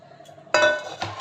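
Pui shak greens and boiled pumpkin dropped into a metal kadai, a sudden clattering clunk followed by a second softer rattle, close and alone.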